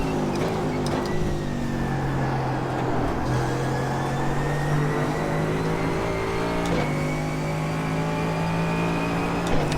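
A Mercedes GT3 race car engine running a lap in the iRacing simulator holds a steady loud drone through the gears, pitch slowly shifting with brief changes as it shifts, with no talking.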